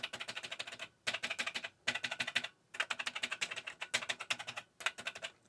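Rapid bursts of typing on an Atari 800XL keyboard with a loose case, close and crisp, separated by short pauses; the repaired K key is struck repeatedly in quick runs.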